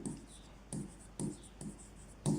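Handwriting during a trigonometry maths lesson, with several short, close scratching bursts of pen strokes separated by brief pauses.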